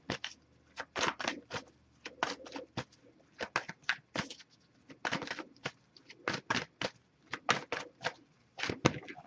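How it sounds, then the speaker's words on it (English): Wisdom of the Oracle deck cards being shuffled and pulled, a run of crisp riffling bursts and flicks in quick irregular clusters, close and clear in a quiet room. "next we'll pull a card from the Wisdom of the Oracle deck here"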